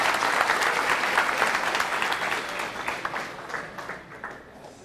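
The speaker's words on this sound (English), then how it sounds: "I'd like to ask you for a big applause for him, too" An audience at a developer conference applauds the interpreter with a loud, full burst of clapping that gradually thins out and fades toward the end.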